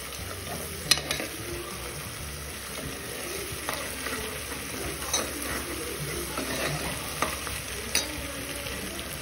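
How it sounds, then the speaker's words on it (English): Green masala frying in oil and ghee for Coorg sukka mutton, a steady close sizzle with scraping spoon strokes as it is stirred, and no voice. "And stir and cook for another 2 or 3 minutes."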